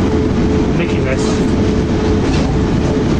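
Steady loud rumble of a British Rail Class 350 electric multiple unit running, heard from inside the first-class section, with continuous wheel and track noise and faint rail clatter throughout.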